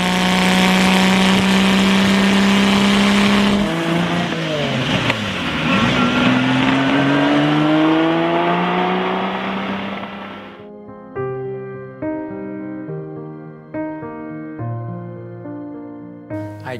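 A sports car engine screams with a loud high whine, dips, then climbs in pitch as it accelerates before cutting off, leaving quieter ringing tones afterward.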